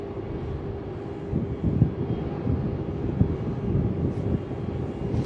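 A DHL Boeing 767 at Melbourne Airport, heard as a continuous low engine rumble and roar, moderately loud and steady with slight swells, with wind buffeting the microphone.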